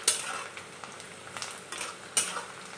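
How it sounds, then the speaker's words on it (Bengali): Onions browning with cloves, cardamom, cinnamon, whole cumin and bay leaf in hot oil, a soft steady sizzle broken by a few sharp utensil scrapes and clinks. "দেখো পেঁয়াজগুলো আমার এখানে লাল লাল করে আমি ভেজে নিয়েছি।"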